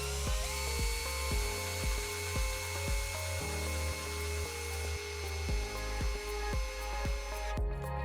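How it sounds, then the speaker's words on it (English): A small power drill bores a hole through the body of a vintage camera being converted into a lamp, whining in short repeated bursts with brief pauses between them, close and fairly loud, with no talking. "Here I'm drilling a hole out to run the wire through the camera."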